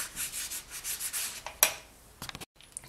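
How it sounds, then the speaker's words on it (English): Sanding a polymer clay piece by hand for a satin finish gives steady, close scratchy rubbing strokes in a quick rhythm, broken by one sharp scrape before a short pause and a few light final passes. "now give this a good sand, and then we can finish it off"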